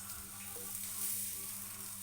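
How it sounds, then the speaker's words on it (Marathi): Oil sizzles steadily on a hot iron tawa while a cheese paratha is cooked, a continuous close frying hiss with no one speaking. "पहिलं तव्यावर तेल टाकायचं कारण तवा आहे ना गरम"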